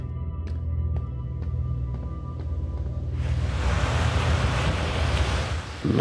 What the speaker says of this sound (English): Lots of water sounds.